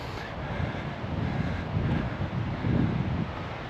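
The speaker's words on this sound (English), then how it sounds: "the wind is picking up a little bit" Strong wind gusting across a mountain hiking trail near North Bend, Washington, a broad steady roar that swells and buffets the microphone for the whole stretch, with no one speaking.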